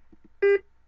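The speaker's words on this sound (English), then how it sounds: "what's all that beeping?" Two faint soft blips, then a single louder electronic beep, short and steady in pitch, against quiet background hum.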